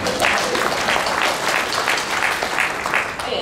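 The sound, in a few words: audience applause at presidential address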